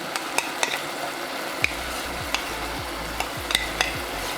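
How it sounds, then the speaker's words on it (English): Ground masala sizzles in a pot of partly cooked chicken for chicken rasam while a spoon stirs it, giving soft steady frying with sharp scraping clicks at irregular intervals and no talking. "Adding in the masala which I ground earlier."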